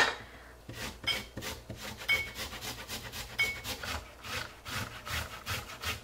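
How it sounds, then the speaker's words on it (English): Fresh ginger is rubbed across a grater in quick, regular back-and-forth strokes, a close, steady rasping rhythm with no talking. "Then I'm gonna grate it."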